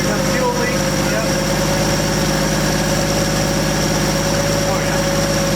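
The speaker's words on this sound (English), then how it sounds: "with the throttle disconnected, it idles fine" A 1964 Pontiac LeMans engine idles with the throttle disconnected, a loud, steady, close rumble with a constant even drone that holds through the whole stretch.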